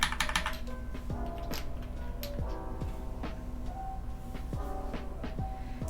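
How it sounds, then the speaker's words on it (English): A CU65 mechanical keyboard is typed on, giving deep, thocky keystrokes. The presses come in uneven bursts, close and clear, over a faint steady background hum. "Hope you guys like that thock there."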